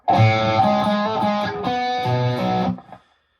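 A short distorted electric guitar riff from a song, loud and close, a few chugging notes before ringing out and cutting off.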